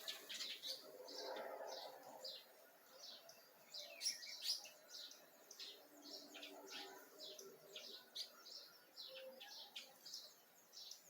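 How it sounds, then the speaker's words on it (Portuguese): Many small birds chirp and sing close by in a quiet outdoor spot, with dense overlapping tweets and calls running steadily throughout. "Estão chegando os pássaros."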